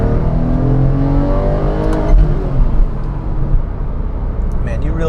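A Porsche 911 Carrera 997 with an active exhaust pulls hard from inside the cabin, its engine note rising loudly through the gears with a brief shift break midway, while someone talks over it.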